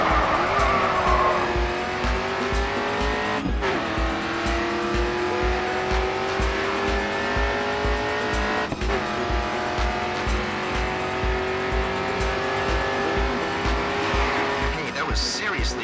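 Race car engine from the video game GRID 2 drones loud and close on a final straight, rising in pitch with gear shifts, with tire squeal and a pulsing low rhythm underneath.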